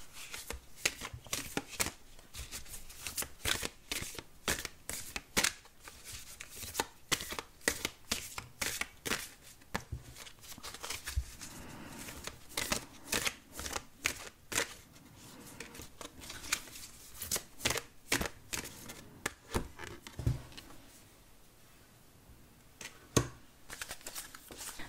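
Oracle cards from Alana Fairchild's Rumi Oracle deck are shuffled and drawn, giving a dense, steady run of crisp riffling flicks and slaps, close and continuous for nearly half a minute with no talking.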